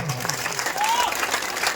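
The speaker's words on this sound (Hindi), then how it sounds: "सबको ये हाथ उठा के ताली बजा देगी तो माना होगा।" Crowd clapping at a Guru Purnima gathering, dense sustained applause throughout with a murmur of voices mixed in.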